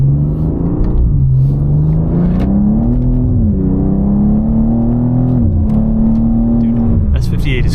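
A BMW G87 M2 with the S58 engine revs at half throttle, its loud, close drone sweeping up and down in pitch over several seconds before settling and dropping away near the end.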